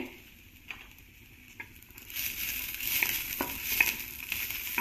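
A mixture of pigeon peas and curry leaves begins to sizzle in a pan over a low flame, a soft hiss that swells after a quiet start, with light stirring scrapes and no talking.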